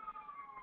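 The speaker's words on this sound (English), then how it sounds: "you might hear some sirens going on in the background right now" A siren wails steadily at a distance, its tone holding and slowly dipping, faint but continuous with no talking.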